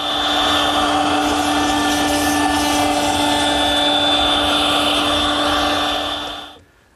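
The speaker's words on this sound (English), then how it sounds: "we can chamfer the edges at the router station" A router chamfers the edges of wooden table slats at a router station, giving a loud, steady high-pitched whine that holds for several seconds and then stops abruptly.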